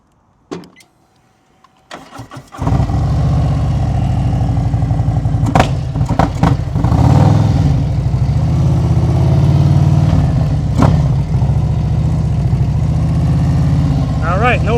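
A motorcycle engine runs steadily and loud close by during a slow-speed turn in the friction zone at an advanced riding practice session in Maryland, its rumble starting abruptly after a quiet opening and holding through the clip, with occasional sharp knocks.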